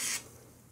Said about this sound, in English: I'll spray some on the yoke right here